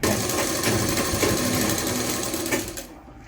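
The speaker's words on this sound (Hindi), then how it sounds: "यहाँ पर एक बारीक सी इसमें स्टिच लगा देंगे" Sewing machine running steadily as it stitches the lining of a kurta, a fast close whirring chatter for about three seconds before stopping.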